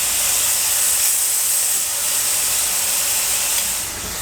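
Marinated steak for Filipino bistek searing in a hot pan, a loud, steady, close hiss of sizzling that fades slightly at the end, no voices.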